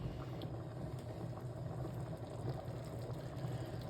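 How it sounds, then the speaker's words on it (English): Tuna pasta sauce for penne simmers in a pan with a low, steady bubbling hiss, faint and continuous with no voices. "let this simmer"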